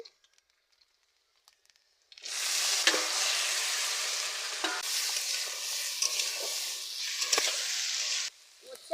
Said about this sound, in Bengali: কেটে রাখা উচ্ছে আর আলু আমি দিয়ে দিচ্ছি।